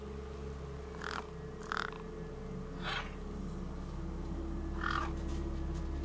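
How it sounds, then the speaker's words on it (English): Crows caw in short harsh bursts over a steady low hum while feeding in the video game Beyond A Steel Sky, four calls spaced irregularly at moderate distance. "No way I was going to get between those birds and their feast."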